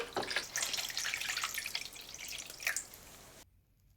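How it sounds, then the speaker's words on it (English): Water runs from a tap into a Silvercrest food steamer with a steady, bubbling splash, then cuts off abruptly just before the end. "I need to fill up more water."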